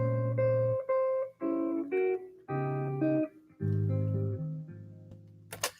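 A jazz guitar plays a ii–V passage as a series of clear, sustained chords and melody notes, moderately soft and alone, with the last chord left to ring out.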